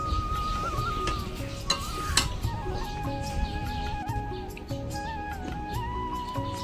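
Chili powder stirred into vegetables, greens and stalks in a pan, with quiet scraping and light sizzling beneath faint birdsong and other background noise.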